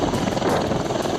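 An army helicopter flying over snow-clad Kashmir gives a steady, loud rotor thrum with a pulsing beat that fills the short stretch.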